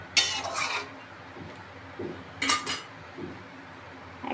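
Metal spoon scraping and clinking in a pan while sour yogurt is stirred into chicken korma, two bursts of stirring separated by quieter gaps with faint pan noise, no talk.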